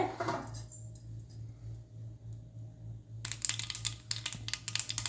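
Mustard seeds splutter in hot sesame oil in a pan. It starts quiet, then turns to dense, crisp crackling and popping over a low steady hum.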